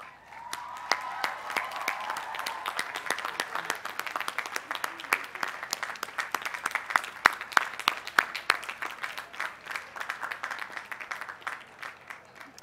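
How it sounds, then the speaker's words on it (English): A standing audience at the Cal Poly Pomona 2014 commencement gives a sustained round of applause, dense overlapping claps with sharper individual hands standing out, steady throughout with some faint voices and whoops mixed in. "standing and giving them a well-deserved round of applause"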